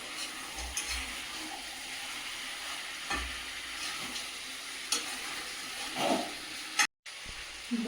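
Meat sizzles and is stirred in a pan as it fries while lunch is cooked at home, with a steady hiss, a few clanks from the spoon, and a short silent gap near the end.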